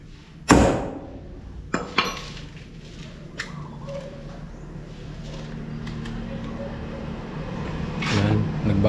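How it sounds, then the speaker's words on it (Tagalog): A hammer strikes a wooden door while a doorknob is being installed, giving a few sharp, irregular knocks. The first blow is the loudest, and later ones are softer and spaced apart over steady background noise. "Pukpok Kuya Puloy ng pinto."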